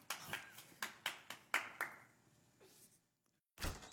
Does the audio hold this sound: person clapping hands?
yes